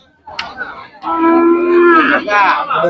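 Heifers with red coats at the Seenapuram cattle market give one long, loud, close moo that rises and wavers, after a short grunt.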